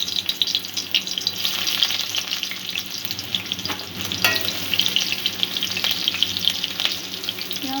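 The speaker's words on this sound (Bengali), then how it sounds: "পেঁয়াজটা একটু ভাজা করে নেব।" Onion frying in about a tablespoon of hot white oil in a kadai gives a constant dense sizzle, close and even, with faint clicks and crackles scattered through it.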